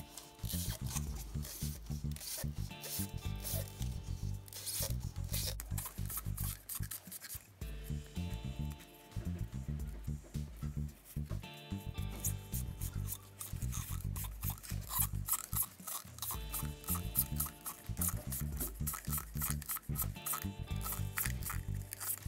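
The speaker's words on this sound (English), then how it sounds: "by applying a little bit of pressure, move it back and forward to cut the styrofoam" A hand tool sawing back and forth through styrofoam, giving a continuous dense run of rhythmic rasping, squeaking strokes at close range with only a few short pauses.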